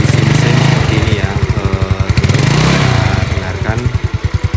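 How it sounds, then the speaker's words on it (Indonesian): A Yamaha Mio scooter engine runs smoothly at a steady idle, its loud, even exhaust pulses chugging throughout with a slight rise and fall in pace. "dengarkan untuk kondisi mesin halus"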